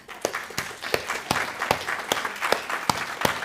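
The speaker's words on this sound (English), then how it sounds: "keep the applause happening" An audience applauds, a moderate patter of many hands with a few sharper, distinct claps standing out in a loose rhythm; fairly close and steady for a few seconds.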